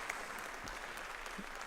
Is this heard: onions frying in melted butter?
no